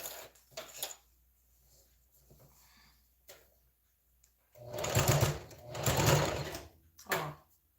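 A sewing machine stitches down the gathered fabric of a top. It runs in a few short stops and starts, then in two longer loud whirring runs and a final short burst, with quiet pauses in between.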